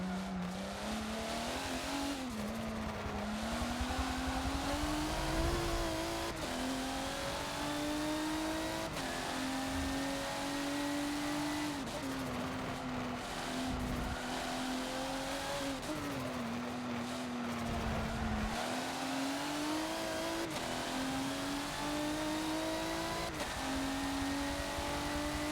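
Race cars lap the Nürburgring GP circuit in a Forza racing game, with a continuous close engine drone that rises in pitch and drops at each gear change. Other cars' engines and tire noise sit underneath.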